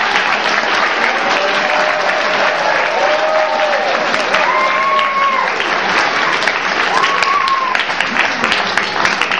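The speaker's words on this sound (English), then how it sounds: "Keep the applause going for Mendel." Sustained crowd applause at a bar mitzvah celebration honoring Mendel, steady clapping filling the room with whistle-like tones rising above it and some voices mixed in.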